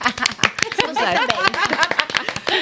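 Several women in a podcast studio clap in a quick, uneven burst of sharp claps while voices talk and exclaim over it throughout.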